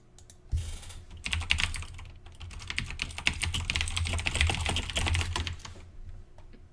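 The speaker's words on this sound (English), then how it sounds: "If you can hear my typing, that is a good sign" Rapid, continuous clatter of keys on a computer keyboard, close and steady for several seconds, with a low hum underneath and no talking.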